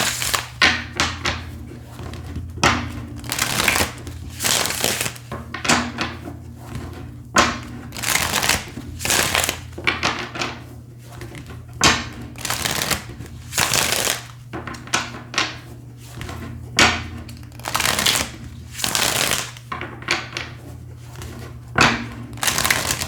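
Tarot cards shuffled by hand in repeated quick riffling bursts with soft slaps and pauses between, close and fairly loud over a low steady hum, no talking.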